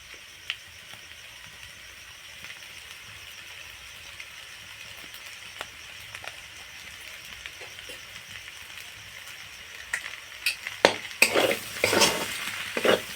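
Soft scraping and sizzling as homemade pasta is stirred with tomato sauce in a pan, faint at first with occasional clinks, then louder and busier utensil strokes near the end.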